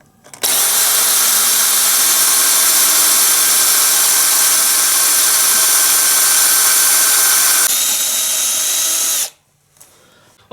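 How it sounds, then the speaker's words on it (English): Power drill boring out a headless screw in wood through a template, a loud steady whine that starts abruptly, shifts pitch slightly near the end, then cuts off, followed by a faint tap. "And now I'm just going to drill it out."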